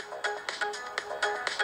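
Mobile phone ringtone sounding in a forest during a metal-detecting dig, a short bright electronic melody of repeated beeping notes, close and clear with no talk over it.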